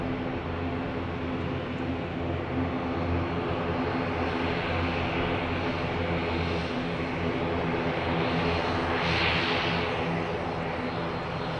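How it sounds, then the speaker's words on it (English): An Emirates Boeing 777 at Lisbon Airport makes a steady, broad engine roar with a low hum underneath, loud and continuous throughout, with no clear speech. "the next departure, this is a lot of people's highlights on our live stream, is 777 from Emirates."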